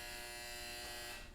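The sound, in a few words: clothes dryer end-of-cycle buzzer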